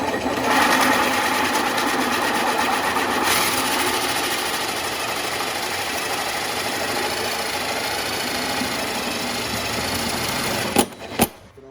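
A power tool run in reverse cuts through plastic for a RZR cold air intake, giving a steady, unbroken motor whine for about eleven seconds before it cuts off with a few sharp knocks.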